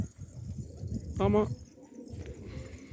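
A single short pigeon coo in a Turkish pigeon loft, set close against low background rumble, with someone speaking briefly nearby.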